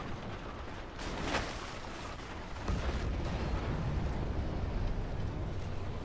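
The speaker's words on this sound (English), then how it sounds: "Sanchero, fire HE." High-explosive tank shell fired in the Armored Warfare video game, a dense booming blast with a sharp crack early on followed by a second heavy rumble and a sustained roaring tail, loud and alone without talk.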